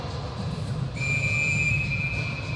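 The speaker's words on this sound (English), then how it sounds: "It's quite the whistle." A referee's whistle at a youth hockey semifinal sounds as one loud, sustained, piercing blast over steady arena crowd noise.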